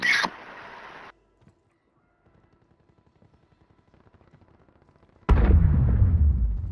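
Gunfire in Modern Warfare 3 (MW3): a loud burst of shots opens, then a quiet stretch of faint ticking, before another heavy blast at close range that rings out and slowly fades.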